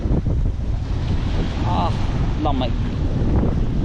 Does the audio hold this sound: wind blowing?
yes